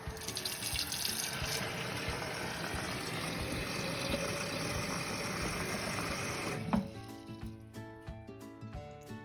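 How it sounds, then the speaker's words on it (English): Water rushes steadily from a tap into a glass jar for several seconds, filling it halfway, then cuts off with a clunk that leaves faint drips and a quiet room. "Our next step is fill your jar up halfway with water."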